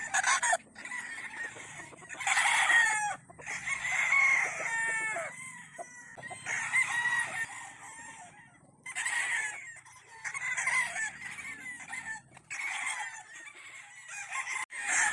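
Fighting game roosters on a gamefarm crow loudly and repeatedly in overlapping bursts, with clucking between the calls, close by and without talk, over about fifteen seconds.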